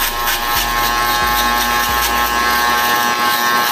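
Electric shaver cutting coarse stubble, a steady close buzzing drone that runs continuously with a few brief dips in tone as the head moves across the hair.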